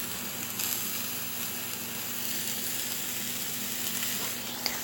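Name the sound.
food sizzling in a pan on low heat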